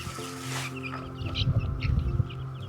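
Hens and brood roosters cluck in short, irregular bursts close by, over a steady low farmyard hum in the Appalachian Mountains, with a brief noisy rustle near the start.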